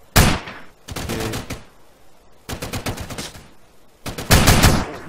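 Rapid bursts of gunfire in GTA San Andreas, four loud clusters of shots at close range with short gaps between them and no talking.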